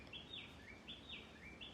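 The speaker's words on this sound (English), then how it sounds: "Can you hear the bird chirping or singing?" A bird in the morning repeats a bright, rising-and-falling chirp about every half second, clear and moderately near over a soft steady background hiss.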